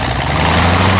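A voice imitates an airplane engine, a short, loud, steady droning rumble held close to the microphone.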